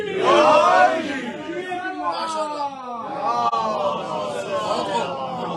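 Crowd at a religious gathering chants the Naara-e-Haideri slogan in loud unison, rising swells of many voices shouting together, close and forceful, with a brief dip midway before another surge.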